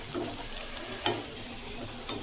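Mutton kacha kebabs fry in hot oil until crisp, a steady moderate sizzle with soft stirring scrapes and a few brief clicks of utensils; no one speaks.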